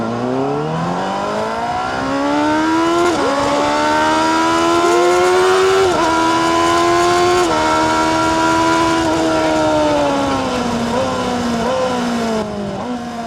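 A 2024 Honda CBR600RR motorcycle accelerating hard, its high-pitched inline-four engine climbing through gears with rising whine and sharp shift breaks, loud and close with no talking.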